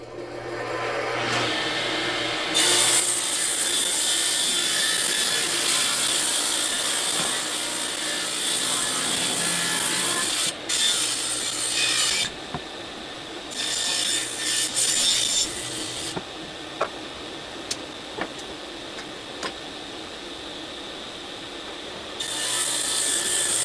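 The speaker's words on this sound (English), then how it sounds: "So this is my old Craftsman 100 table saw." A Craftsman 100 table saw with a rack and pinion fence ripping through 2x4 scrap wood, its loud whining cuts running in long bursts broken by short quieter pauses, close up and without speech.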